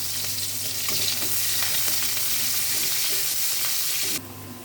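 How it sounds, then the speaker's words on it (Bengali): Onions frying in hot oil with dried red chilli, a loud steady sizzle with faint stirring scrapes, cutting off abruptly near the end. "পেঁয়াজটা ভাজা ভাজা হয়ে গেছে"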